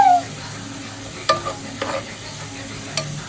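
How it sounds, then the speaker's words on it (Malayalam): Onions sauté in oil in a pan with a soft, steady sizzle, broken by a few brief scraping stirs close up. "നമുക്ക് ഒരു ചട്ടി എടുത്ത് അതിൽ എണ്ണ ഒഴിച്ചിട്ട് ഉള്ളി ഇടാം"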